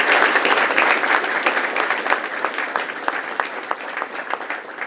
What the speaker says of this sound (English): The first round of applause for our panelists.